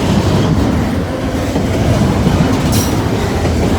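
Norfolk Southern northbound freight train passing about a mile off, a steady, loud rumble of rolling cars with a continuous wheel roar throughout.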